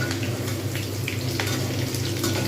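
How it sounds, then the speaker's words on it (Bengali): Chicken pakoras fry in hot oil with a dense, loud, continuous bubbling sizzle close up, plus a few light stirring clicks. "পিটোপিট করে ভালোভাবে নাড়তে হবে তাহলে কিন্তু সব দিকটা সুন্দরভাবে ভাজা হবে"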